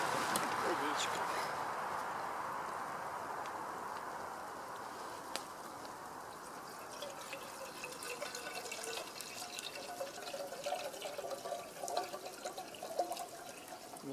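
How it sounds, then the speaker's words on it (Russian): Water is poured steadily from a bottle into a pot over a campfire at an outdoor barbecue, a continuous trickling splash that fades under a faint background hiss. "Сейчас и водички налью."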